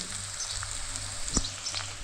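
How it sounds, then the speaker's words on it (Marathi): Continuous close sizzle of onion, cumin and mustard seeds frying in hot oil, with a brief scrape midway. "कांदा जिरं मोहरी तेलात परतून घेतले चांगलं"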